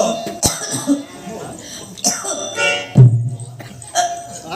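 Several sharp coughs and throat clearing break out amid lively nearby talk between people, with one loud, low cough standing out near the middle.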